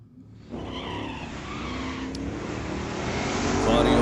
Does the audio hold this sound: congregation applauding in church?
no